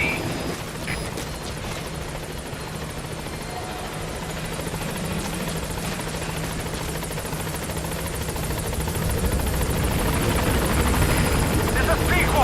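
B-Quad, the support helicopter in Metal Gear Solid V, approaches a landing zone with a continuous rotor thrum and whine that grows louder and closer toward the end, with radio voices talking over it.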